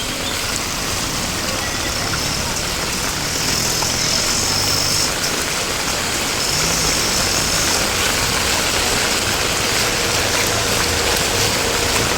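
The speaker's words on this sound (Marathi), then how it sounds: "जोर वाढलाय पुन्हा पावसाचा." Heavy monsoon rain pours down over flooded streets in Nalasopara, Mumbai, a loud unbroken roar of water that holds steady throughout, with a faint engine hum beneath it.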